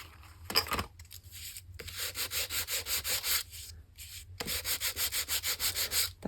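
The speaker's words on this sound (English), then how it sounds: "forgot to sand this." Hand-sanding a page in an altered book, close rhythmic back-and-forth scratchy strokes in two quick runs with a pause between, no talking.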